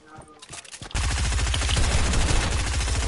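Rapid automatic assault rifle fire in a video game kicks in abruptly after a quieter opening and keeps hammering as a loud, dense, unbroken burst to the end.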